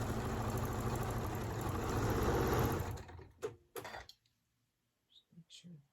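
A sewing machine stitches quilt block pieces for a flying geese block with a steady, close whirring hum for about three seconds, then stops, followed by a few light knocks and handling sounds.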